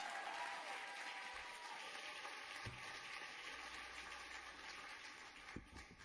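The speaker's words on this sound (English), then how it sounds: "People just applaud." An audience applauding at an awards ceremony, a continuous, fairly faint wash of clapping that sustains for about six seconds and tapers slightly near the end.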